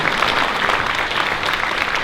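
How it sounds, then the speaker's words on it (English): Steady, dense audience applause at a community fundraising anniversary event, filling the whole stretch evenly at close range with no talk over it. "Once again, big round of applause for the creativity."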